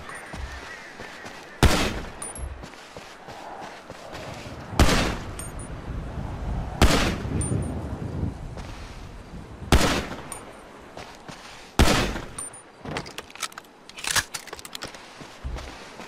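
Gunshots in GTA V fired at an abandoned house, sharp loud single cracks spaced a few seconds apart, then a quicker cluster of shots near the end, with quiet ambience in between.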